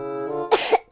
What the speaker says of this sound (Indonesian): aku agak sedikit batuk gitu